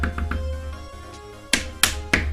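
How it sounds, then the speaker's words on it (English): A pencil taps on a hard surface in a few soft, light taps early on, then three sharp, louder knocks spaced about a third of a second apart, over a low steady hum. "you can hear like a lot of tapping noises"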